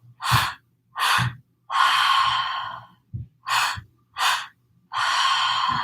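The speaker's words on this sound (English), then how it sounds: "first breathing into the low belly and then breathing into the chest. And then we'll slowly exhale out through the mouth" Pranayama breathing, drawn into the low belly and then the chest and released out through the mouth: six loud, close breaths in a slow rhythm, with the longer airy exhales alternating with shorter inhales.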